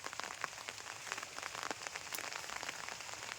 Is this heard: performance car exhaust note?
no